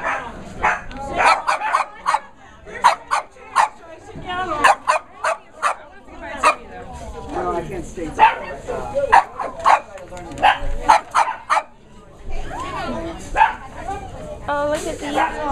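Many dogs barking and yipping at a PetSmart adoption weekend in Rohnert Park, with repeated sharp barks in uneven bursts close by, while someone talks over them throughout.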